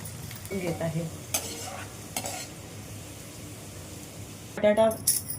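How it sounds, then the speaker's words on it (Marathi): Carrots and beans fry in oil in a kadhai while being stirred, close sizzling with scraping spoon strokes and a burst of metal clatter near the end, a voice speaking briefly. "ह्या ज्या भाज्या स्वच्छ धुवून चिरून घेतलेल्या आहे त्या तळून घेणार आहे।"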